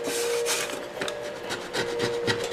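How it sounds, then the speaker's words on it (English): Sandpaper rubs back and forth over the wooden neck of a cigar box guitar, a dry rasping scrape repeated in steady strokes, close and fairly quiet, with no voices. "brush a little sandpaper over it and everything will be all right"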